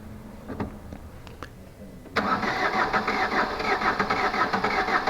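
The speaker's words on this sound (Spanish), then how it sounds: "primer arranque fallido, normal que cueste un poco" Fiat JTD diesel engine, after injector work, cranks in a failed first start attempt: a few scattered clicks and brief bursts, then a sudden loud mechanical churn that runs steadily to the end.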